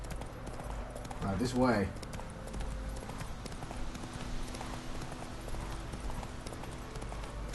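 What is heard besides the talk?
horse Roach's hooves clip-clopping in the video game Witcher 3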